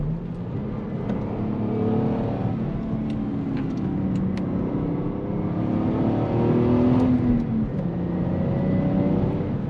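A Lexus IS300 engine with a five-speed manual hums steadily under acceleration on a winding road, revs between 3,000 and 5,000, pitch rising and falling through the gears, loud and continuous from inside or near the car.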